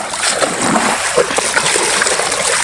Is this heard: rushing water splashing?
yes